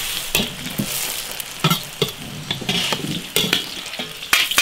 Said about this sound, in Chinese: 这洋葱炸出来的时候，就把它给炸了捞出来就行了。